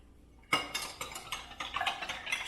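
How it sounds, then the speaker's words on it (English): A spoon stirs pennywort green leaf juice sweetened with stevia in a glass. After a short quiet start, quick rhythmic clinks and scrapes of metal against the glass follow up close. "stir it a little bit"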